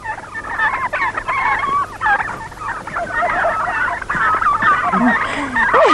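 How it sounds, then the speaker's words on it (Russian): A flock of turkeys gobbles continuously in a rural farmyard, loud and close, their warbling calls overlapping throughout while a voice speaks briefly beneath them. "Индюков надо загнать."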